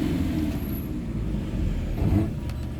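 A car braking hard on the road with its ABS cutting in too early, sending a shudder through the pedal near a stop; a steady low rumble of vehicle and road noise runs throughout, with no talking.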